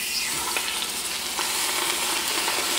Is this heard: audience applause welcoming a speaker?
no